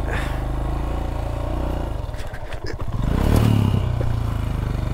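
A motorbike engine runs steadily up close, with a rumble that swells louder toward the end, along with some clatter and scraping.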